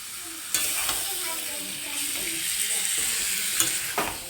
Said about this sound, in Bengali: এবার মাংসটা দিয়ে ভালো করে নাড়িয়ে চাড়িয়ে ভাজতে হবে মাংসটাকে।